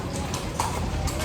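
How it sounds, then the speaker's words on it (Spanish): Horse hooves clip-clop on a street in Cartagena, a quick run of knocking steps close by under busy outdoor noise, with people talking over them. "Viene un caballo que nos quiere atropellar."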